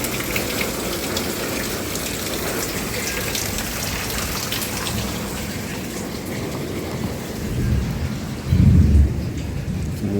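Steady rain hisses throughout while a low rumble of thunder swells near the end; no voices.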